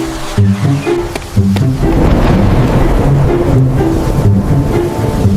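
Heavy rain hisses steadily through a violent storm while deep thunder rumbles and cracks repeatedly, loud and close.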